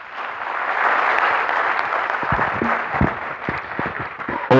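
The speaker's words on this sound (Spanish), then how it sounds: "propongo un fuerte aplauso" A crowd applauds steadily, a dense wash of clapping that gradually thins into scattered individual claps toward the end. No one speaks.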